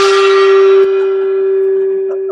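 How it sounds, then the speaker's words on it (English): A single gong strike at the close of an online conference rings loud and clear, its sustained metallic tone slowly fading, with no speech over it. "And I'll hit the gong to say goodbye."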